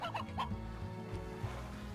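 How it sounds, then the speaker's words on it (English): A rooster in Slime Rancher gives a few short, throaty gobbling clucks close by. The calls come quickly at the start and then fade into a low background hum. "Oh, there's a hen. You guys see him over there? It's a rooster, not a hen, though."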